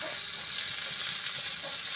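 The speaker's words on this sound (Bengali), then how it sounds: "খুব সুন্দর মতো করে আমি ভেজে নেব।" Chopped onion frying in a pan after garlic, a steady low sizzle with faint stirring, quiet and continuous with no speech.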